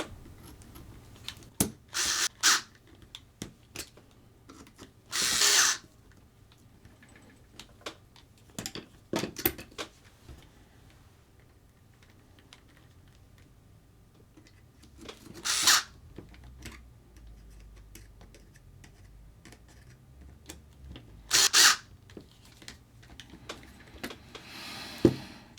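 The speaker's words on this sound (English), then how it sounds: "put all the screws back in to hold this together" A power driver runs screws back into a TT-01E RC car's alloy and carbon chassis in a few short, sharp whirring bursts, separated by long quiet stretches with light clicks and handling noise.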